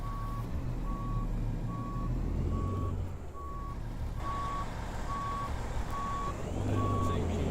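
A big rig in American Truck Simulator reverses with a trailer, a steady reversing beep repeating about every second over a continuous low diesel engine rumble, with no talk.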